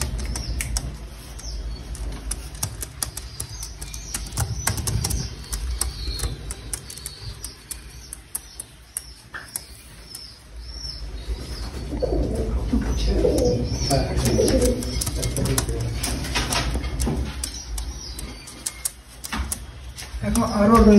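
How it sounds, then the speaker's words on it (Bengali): Aliwala pigeons in a home loft coo and flap their wings nearby, with rustling and fluttering bursts throughout and a person talking over the birds. "এই হচ্ছে আমার আলিওয়ালা পায়রা।"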